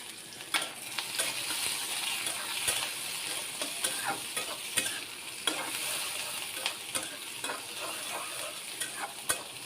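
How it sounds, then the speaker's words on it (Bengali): Onion and green chillies fry in hot oil with bay leaves, a soft continuous sizzle broken by regular sharp scrapes and taps of a spatula stirring in the pan, close by and without speech. "পেঁয়াজ কাঁচামরিচটা একটু ভেজে নিলাম"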